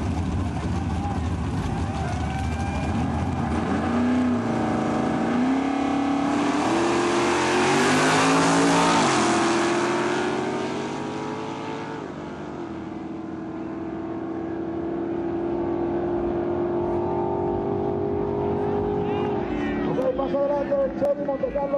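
8-cylinder AAA-class drag race cars, one a Monte Carlo, roar down the strip in a long, loud engine howl that rises in pitch through the gears, swells and fades, while a commentator talks over it.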